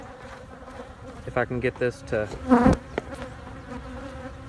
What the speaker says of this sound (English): this is my more aggressive hive, so the bees will really get going here in a second